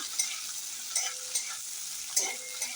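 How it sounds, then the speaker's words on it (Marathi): Capsicum and onion stir-fry in oil over a high flame, putting out a continuous hissing sizzle. Soft scraping strokes of stirring come at irregular intervals, fairly close and with no voices. "आता ही शिमला मिर्च आणि हा कांदा त्याच्यात घालून एकदम हाय फ्लेमवर चांगलं परतून घालायचं"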